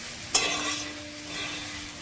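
Fish head masala with katla fish sautéing in hot oil, a steady soft sizzle with one sharp scrape or clatter near the start, then continuous frying hiss.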